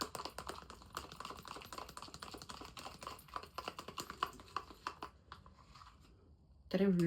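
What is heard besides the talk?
mixing coffee powder face pack in a bowl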